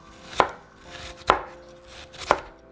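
An onion chopped with a knife on a board for spiced-up ramen, three sharp, evenly spaced cuts close by, with no talking.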